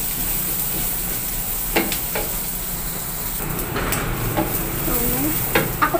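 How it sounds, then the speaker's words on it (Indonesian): Red and green chilies stir-fry in a hot pan for Indonesian sambal with anchovies and tofu, a steady loud sizzle with a few utensil scrapes and taps against the pan, no voices. "aku masukkan terakhir cabai merah sama cabai hijau. Tumis sampai matang."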